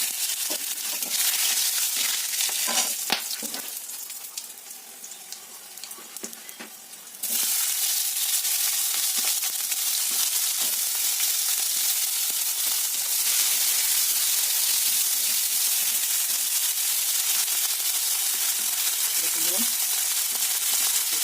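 Whole spices (bay leaves, dried red chillies, cumin, whole garam masala) sizzle and crackle in hot oil in a wok, a steady hiss that jumps louder partway through and continues without pause, with occasional faint clatter.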